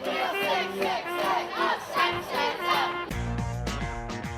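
A protest crowd gathers on the pavement outside a beauty pageant, with chanting voices rising and falling in waves and a burst of louder shouting near the end, all moderately distant.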